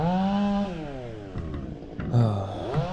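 A chainsaw running during tree removal, close and loud, its engine pitch rising and falling as it revs and eases off through the cut.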